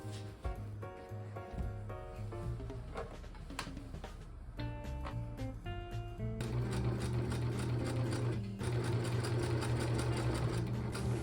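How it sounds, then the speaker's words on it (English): A sewing machine bastes interfacing to fabric bag pieces for a messenger bag, a steady mechanical stitching hum running throughout under a layer of music, moderately quiet. "you can just baste the edges together"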